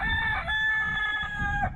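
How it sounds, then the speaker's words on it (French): A rooster, a cockerel that has nearly doubled in size on a farm, crows close and loud for nearly two seconds in a long, sustained call with clear harmonics, and no one speaks over it. "Un coq qui a presque doublé de volume depuis qu'il est chez nous."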